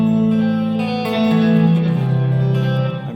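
Guitar played through a custom GUPTech effects pedal in reverb mode rings out in sustained notes with a lush, echoing wash that shifts pitch midway and trails off at the end.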